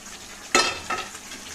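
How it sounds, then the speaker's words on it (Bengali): Fried chicken pieces tipped into hot oil for a chicken roast give a sudden loud burst of sizzling that settles into a softer crackle, with a brief stir and utensil clink. "এর ভিতরে মুরগিটা ঢেলে দেই এই যে ভাজা মুরগি দিয়ে দিলাম"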